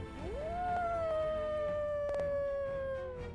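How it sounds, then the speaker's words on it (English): A single long wolf howl used as a tabletop game sound effect, rising quickly then holding a steady drawn-out tone that slowly sinks over a few seconds, loud and clear over a rough background hiss. "so you perk your ears and you can hear the wolves howling"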